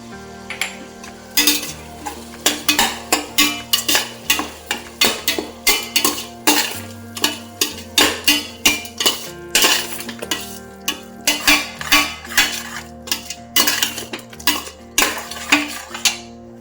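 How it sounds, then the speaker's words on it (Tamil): A spoon scraping and clanking in a pot as biryani masala with chili powder, sugar, salt and curd is stirred, with rapid repeated loud metallic strokes over a soft sizzle and no voices. "அப்புறம் தயிர் இதெல்லாம் போட்டு நல்லா கலந்து விட்டுக்கலாம்"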